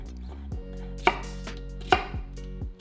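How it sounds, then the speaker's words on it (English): A knife slices carrot, celery, spring onions and onion on a cutting board, giving a few distinct, sharp chops spaced about a second apart amid quieter scraping. "For our vegetables, just slice up a carrot, some celery, spring onions,"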